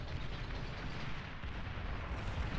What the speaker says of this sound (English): First bomb wave does drop.